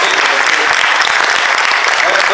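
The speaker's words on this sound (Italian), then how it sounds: "lo salutiamo con un applauso" Audience applause at a September festival concert in Lanciano, greeting the mayor of Ortona, fills the space as a loud, dense, steady wash of clapping from a large crowd, unbroken from start to finish.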